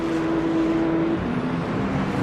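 Porsche and BMW race cars on the Circuit of the Americas in the racing game Le Mans Ultimate, in light rain: a steady engine drone with a sustained tonal whine that shifts pitch partway through, continuous and fairly loud.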